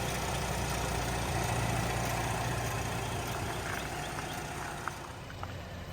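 A 2012 Buick Enclave's 3.6-liter V6 idles smoothly with a steady, even low hum, fairly quiet and alone.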